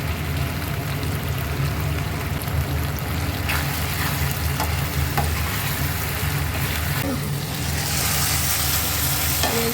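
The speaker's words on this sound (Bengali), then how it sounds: "একটু মাঝে সাথে নাড়িয়ে চালিয়ে নিতে হবে, আমার লেগে গেলে মুশকিল হয়ে যাবে।" Chilli paneer with tomato ketchup is stirred in a hot pan, making a constant frying sizzle with occasional spoon scrapes and clicks against the pan, heard up close and without talk.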